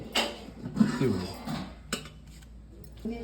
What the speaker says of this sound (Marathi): झाकण उघडते